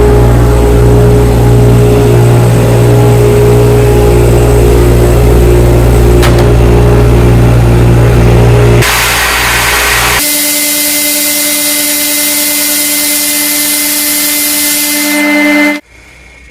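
A garage table saw rips through MDF with a modified Harbor Freight dust collector running. A loud motor hum drones steadily, shifts pitch partway through as the blade cuts, and stops sharply near the end.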